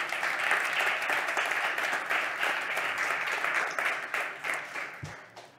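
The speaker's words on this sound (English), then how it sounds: "Big applause for Nicole Formica Schiller." Audience applause at a demo day event, a dense wash of clapping that holds steady and then thins and tapers toward the end.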